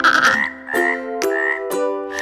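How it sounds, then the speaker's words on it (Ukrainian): A frog croaks four or five times in a row, each call a bright, throaty, rising croak separated by short pauses, close and clear. "Жаба ква."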